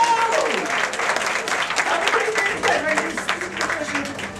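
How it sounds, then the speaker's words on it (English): Audience applause breaks out for a volunteer at a live amateur magic show, a dense, sustained crowd clapping that fills the room at steady loudness for several seconds, with faint voices mixed in. "Big round of applause for Adam and the magic ball!"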